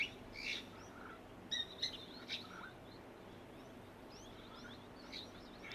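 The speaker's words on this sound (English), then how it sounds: "tiny little birds" Tiny birds chirp at a waterhole, a scattering of short, high tweets and call bursts, faint and somewhat distant over soft outdoor background noise.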